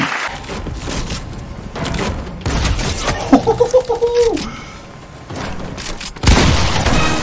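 Gunfire in the video game Fortnite, several bursts of shots and booming impacts spread unevenly across the stretch, loud and close, mixed with other game effects and a short tonal chime in the middle.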